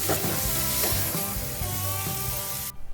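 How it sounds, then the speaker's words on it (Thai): Bitter gourd and egg being stir-fried in a hot pan, with steady loud sizzling and scraping stirs throughout, cutting off abruptly near the end. "ผัดให้เข้ากันแล้วก็ชิมรสชาติตามชอบได้เลยนะคะ"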